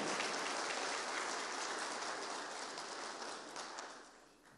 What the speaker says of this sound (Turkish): coşkulu alkışlarınızla alkışlıyoruz